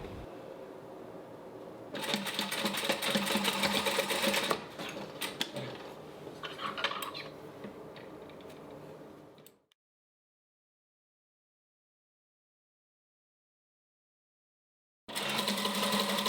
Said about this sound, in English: stay stitch in place at the center of the left side seam